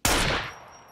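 A single sharp gunshot from the survival game Scum cracks loudly, then trails off into a fading echoing tail.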